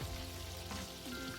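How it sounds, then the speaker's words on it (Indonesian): Tofu and tempeh fry in hot oil with a steady, dense crackling sizzle close by, unbroken throughout and with no talking. "Saya goreng tahu sama tempe bacamnya."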